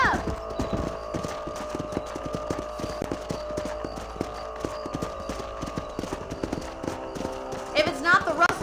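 Horse hooves clip-clop rapidly and steadily in a galloping rhythm in the Western video game Red Dead Redemption. Creaking, jingling and a whinny sound near the end, with game dialogue and effects layered on top.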